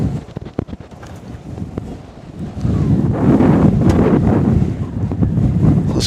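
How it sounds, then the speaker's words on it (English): Strong cold wind buffeting a microphone outdoors at Northern Kentucky International Airport, a continuous rumbling roar with gusts that build louder midway, no talk. "The wind is blowing at a very heavy zephyr."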